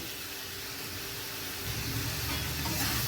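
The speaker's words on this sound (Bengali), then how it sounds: "আলু আর মশলা ভালোভাবে কষিয়ে নিয়েছি" Potatoes and spices sizzle in a pan, a soft steady frying hiss with occasional stirring scrapes, growing slightly fuller partway through.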